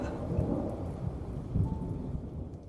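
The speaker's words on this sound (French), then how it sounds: "Ça n'est sûrement que le bruit de la pluie" Rain falling steadily with low rumbling thunder rolling through, a soft continuous hiss over deep booming swells, with no voices.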